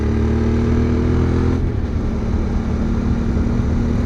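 Steady, loud drone of a QJ Motor twin-cylinder adventure motorcycle engine at cruising speed on a road, with a constant low rumble and a slight pitch shift partway through, no voice.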